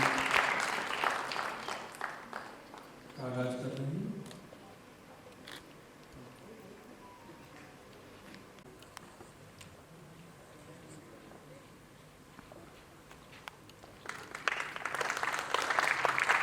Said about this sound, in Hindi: सभी से आग्रह है तालियों के साथ में आज के आयोजन